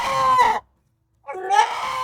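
Two loud, harsh crowing calls from a nearby native country rooster, separated by a short silent gap.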